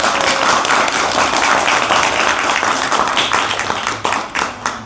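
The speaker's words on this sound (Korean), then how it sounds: "큰 박수 부탁드립니다." Audience applause at a book concert fills the room after a professor's song, a dense steady wash of many clapping hands that thins and falters toward the end.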